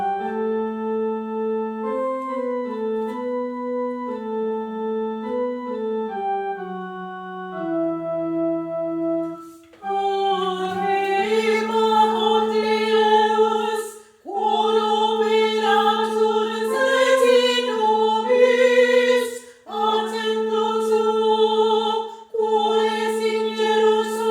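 Unaccompanied Latin choir sings a slow, flowing Gregorian chant offertory in several long phrases with brief pauses between them, fairly quiet and steady.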